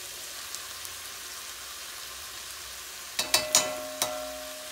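Chicken sautéing in an overfull pot on a stovetop gives a faint, steady sizzle. Near the end come a few sharper clinks and splatters, with no voices.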